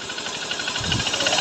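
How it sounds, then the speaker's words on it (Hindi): A rebuilt Honda Shine motorcycle engine runs in a brief, close recording, a steady rapid putter with a low throb that stays even throughout. "सबसे पहले आप इंजन का साउंड सुन सकते हैं"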